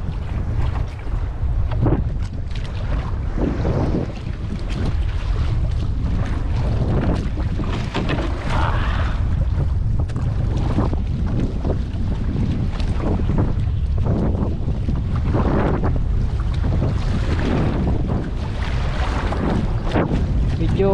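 A small fishing boat motors home, its engine a steady low rumble under heavy buffeting wind noise, continuous and close for the whole stretch with no clear talk.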